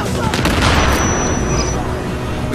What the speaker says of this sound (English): We're gonna throw a frag right there.